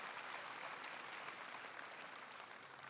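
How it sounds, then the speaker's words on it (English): Audience applause fills the room in a dense, steady wash of many hands clapping, even and sustained throughout, fairly faint overall with no voices on top. "Give a big round of applause"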